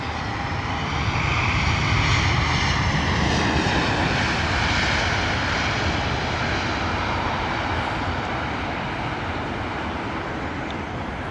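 A heavy jet takes off from runway 27 left at London Heathrow, its engines giving a loud, continuous broadband roar with a rising whine that holds steady throughout, close and alone.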